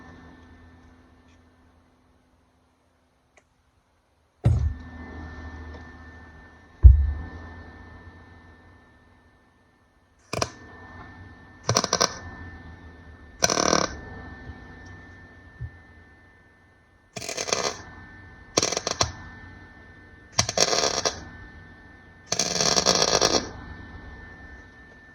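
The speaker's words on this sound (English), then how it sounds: "just a little Lincoln wire feeder on a 23 wire mixed gas." MIG welding with a Lincoln wire feeder on mixed gas, a series of short bursts of crackling arc, several seconds apart, each lasting about a second, with quiet between.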